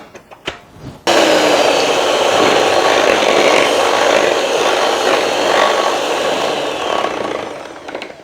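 An electric mixer whirs loudly and steadily, beating two sticks of softened butter with a cup of oil for shortbread cookie dough, starting abruptly after a few soft kitchen clatters.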